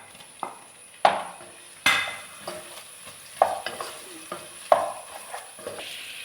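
Tomatoes sizzle in a frying pan for chicken curry, with several sharp spoon scrapes and stirs against the pan at uneven intervals over a steady background hiss.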